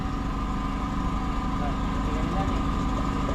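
The diesel engine of a loaded truck hauling fuel containers, leaking oil, runs at a steady idle with a constant low rumble and hum, while voices talk faintly nearby.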